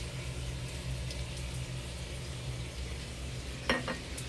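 Tilapia frying in cooking oil, a steady close crackling sizzle throughout with a couple of brief sharper pops near the end.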